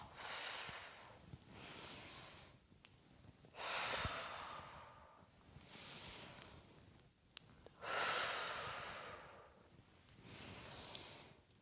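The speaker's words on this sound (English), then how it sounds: "Inhale up and exhale down." Slow, deep breathing during a hatha yoga flow, long audible inhales alternating with exhales in a steady rhythm, close and soft with a slightly airy, rushing quality.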